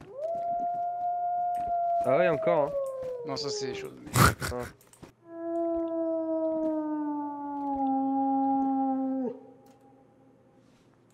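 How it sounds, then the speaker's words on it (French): Wolf howling in the DayZ video game, with long sustained tonal howls that slowly fall in pitch, heard at moderate level across most of the clip while someone talks over part of it. "il y a eu un bruit de loup un peu plus loin vers où je regarde là-haut"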